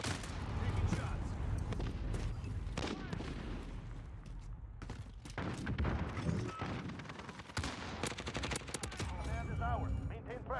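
Dense, continuous gunfire from the Modern Warfare video game, with overlapping bursts and booms filling the whole stretch, and voices talking over the combat throughout.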